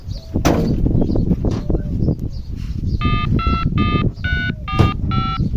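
A phone keypad beeps out a quick run of dialing tones, about eight distinct tones in a rhythmic sequence. Scattered knocks and handling noises come first.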